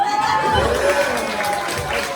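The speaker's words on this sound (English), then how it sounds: "Round of applause, guys." An audience at a talent-show performance cheers and claps in a short, loud burst of crowd noise, with shouts and chatter mixed through the applause.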